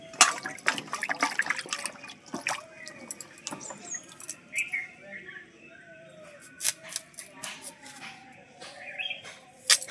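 Fresh winter vegetables such as carrots and beans are washed in water in a kitchen, with irregular close splashes, drips and rustling handling sounds, a few sharper clinks and brief gaps.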